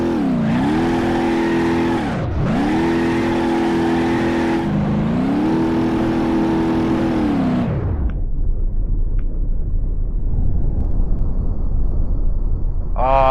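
A car engine in the driving simulator BeamNG revs hard through several rising gear pulls, loud and close, then drops away to a low rumble and road noise before another rev begins at the end.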